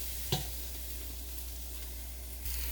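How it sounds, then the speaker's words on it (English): Bacon and onions sizzle in a pan with a steady, soft frying hiss, broken by one brief knock near the start and a slightly louder surge at the end. "we're going to check on our bacon and onions"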